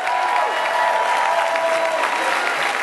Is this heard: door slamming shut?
no